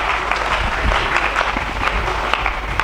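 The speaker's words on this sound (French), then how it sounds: "Acclamons très fort pour le roi." A church congregation claps and applauds loudly and steadily throughout, a dense continuous wash of hands with faint voices mixed in.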